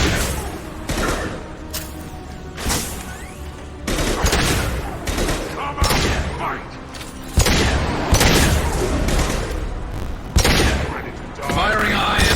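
Rapid weapon fire and booming explosions in Mass Effect 2 combat, loud repeated bursts in an irregular rhythm throughout, with game voices speaking in between.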